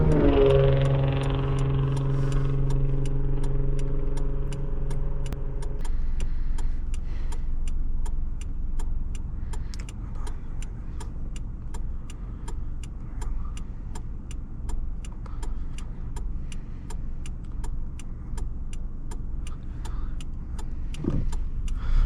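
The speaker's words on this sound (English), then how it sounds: "Let's see how this Camry handles, and then wrap up the test drive." A 1998 Toyota Camry LE on a back-road test drive, heard from inside the cabin as a steady engine and road hum. A regular ticking clicks throughout, and a few sustained tones fade out early on.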